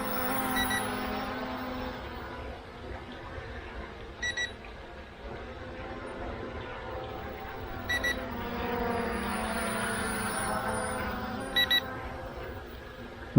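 A small inexpensive brushless drone hovers close by with a steady whirring hum, while its uncharged battery sounds short double beeps at regular intervals of about four seconds, with no talk.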